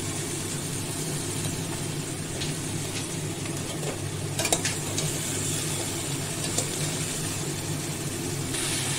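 Potatoes and onions fry in a pan with steady low sizzling. A few scraping clicks from stirring come through in the middle.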